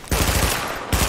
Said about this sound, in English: Just gotta keep shooting them, keep hitting them with bullets until they die.